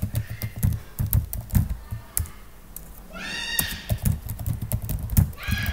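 Computer keyboard keys tapped while entering text in the vim editor's insert mode, a quick irregular run of sharp clicks with a short pause partway, some squeaky background noise mixed in.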